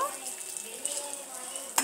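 Peanuts frying in hot oil for a tamarind rice tempering, a steady soft sizzle with faint crackles running throughout and a brief louder clatter at the very end.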